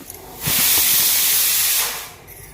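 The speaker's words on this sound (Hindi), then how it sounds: "फटाफट जो है मैं सब्ज़ी छौंकने जा रही हूँ।" Vegetables hit a hot pan for tempering and set off a loud, steady sizzling hiss that swells up, holds for over a second, then eases off, close by in a home kitchen.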